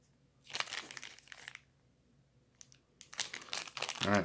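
Product packaging for a Drone Keeper Mini is torn open by hand at close range, making two bursts of crinkling, ripping plastic and paper with a quiet pause between them.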